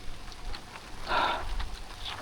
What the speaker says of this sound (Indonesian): ini hujannya deras banget nih